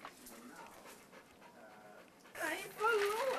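An old dog pants quietly and rhythmically, with people talking over and around it throughout.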